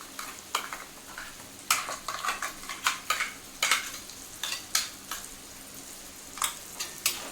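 Green chili paste and mutton fry in ghee on a tawa, with repeated scraping stirs of a spoon over a low, steady sizzle. The stirs come in an uneven rhythm, close and distinct, with no speech.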